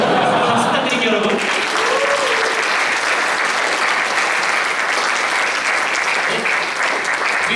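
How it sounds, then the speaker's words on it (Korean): Congregation applause at a Korean church service in Auckland, dense and steady clapping filling the whole stretch, fairly loud and close, with a few voices briefly audible near the start. "박수 부탁드릴게요 여러분"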